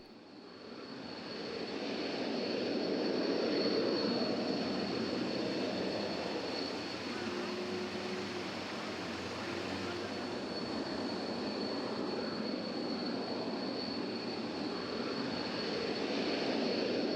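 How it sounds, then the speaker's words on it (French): Mirage IV jet bomber engines producing a broad, sustained roar that swells and holds for many seconds, heavy and fairly distant, with no voices. "lorsqu'il quitte le sol dans le grondement de ses réacteurs pour rejoindre les limbes"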